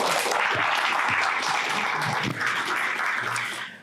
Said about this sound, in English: Let's give Cyndy and Adam another round of applause